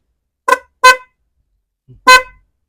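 A Motorstar Easy Ride 125 motorcycle dual horn honks three times, two quick blasts followed by a pause and a third, loud and close, with no talking.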